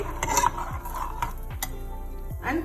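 Spoon stirring mutton soup in a pressure cooker with tomato, onion, cloves, turmeric and water, giving a few scraping strokes against the metal pot at close range, with light clinks.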